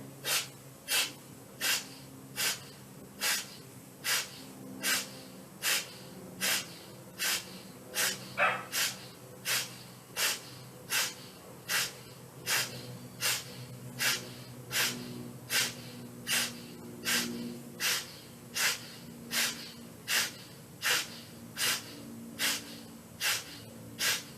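Rapid Kapalbhati breathing through the right nostril in an adult yoga class: forceful, sharp nasal exhalations in a steady rhythm, about one or two per second, around forty strokes, close and clear over a faint background.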